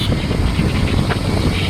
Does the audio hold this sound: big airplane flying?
yes